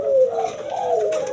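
A white turtle dove and an Iraqi dove coo in a small cage, giving a steady, close, soft low cooing that rises and falls across the short moment, with no voices.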